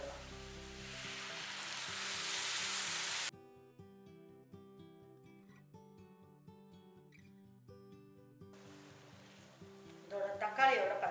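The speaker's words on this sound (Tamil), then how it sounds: "இப்போ நம்ம அரைச்சி வச்சிருக்க இந்த தக்காளி பேஸ்ட்டு இதில் சேர்த்துடலாம்." Ground tomato paste hits hot oil with a loud, hissing sizzle for about three seconds, then drops away, leaving background music that continues throughout.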